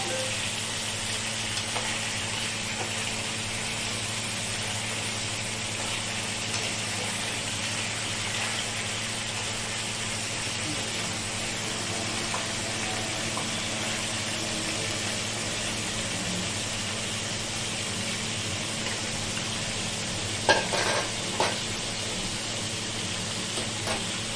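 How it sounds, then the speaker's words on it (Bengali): Onions and mutton pieces frying in a pan for mutton do pyaza until golden, a steady low sizzle running throughout with a constant hum beneath and a couple of brief clatters near the end. "এবার আস্তে আস্তে এগুলো ভাজা হচ্ছে সোনালি হয়ে গেলে সেগুলো তুলে রাখবো"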